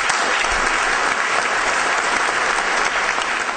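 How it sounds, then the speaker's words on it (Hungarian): A theatre audience applauds at a gala film premiere in the Uránia cinema, a dense, steady wash of many hands clapping together without pause. "Én tisztelettel azt kérem mindannyiunktól, hogy a ma este utolsó tapsa nekik szóljon."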